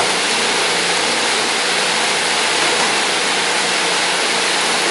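A steady, dense hiss of water from an artificial rain sprinkler system spraying onto a roof, loud and unbroken throughout like heavy rainfall, with no voices.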